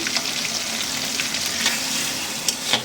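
Onions, ginger and garlic frying in oil for biryani, a loud continuous close sizzle with occasional light clicks of stirring and no voices.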